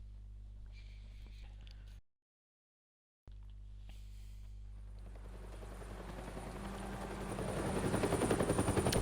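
Helicopter rotor thumping in a Telltale Batman video game builds from a distant hum to a louder, rapid chop, interrupted by a brief moment of total silence, with electronic game-like tones.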